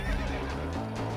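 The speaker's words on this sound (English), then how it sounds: "Let me turn this horse around, sir." A horse neighs in the video game Red Dead Redemption, a loud, wavering whinny that fills the whole moment over a rumbling game background, with no talk.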